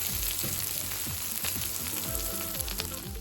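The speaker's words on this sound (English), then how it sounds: "Listen to that sizzle." Steady, loud sizzling of food frying in a discada, a constant crackling hiss, with a soft rhythmic thumping underneath.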